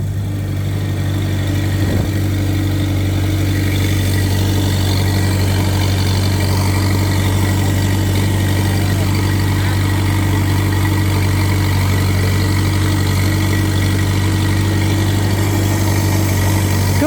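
A pesticide sprayer vehicle's engine runs steadily at low strain, producing an unbroken, loud, close drone with strong low humming tones and one brief knock near the start. No one speaks.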